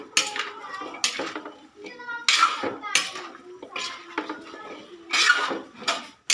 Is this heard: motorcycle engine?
no